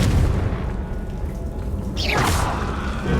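A booming blast from the Confringo fire spell in Hogwarts Legacy, a deep rumbling impact followed by a bright whooshing burst near the end, loud against continuous game ambience.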